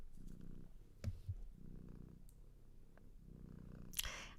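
A small cat named Zizi purring up close, a soft low rumble pulsing in slow, steady breaths, with a few faint clicks and a brief rustle near the end.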